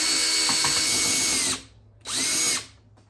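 Power driver backing out Torx T25 fairing bolts on a BMW motorcycle, two loud close whirring bursts with a short pause between them, no talking.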